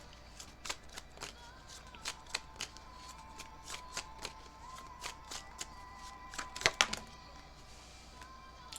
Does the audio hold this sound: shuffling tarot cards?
yes